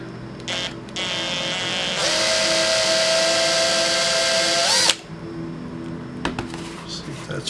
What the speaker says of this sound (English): we have one more to drill here for the motor